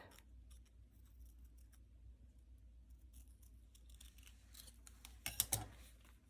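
Scissors snipping paper scraps for a junk journal, a few quiet cuts with two sharp, close snips near the end over a faint background hum.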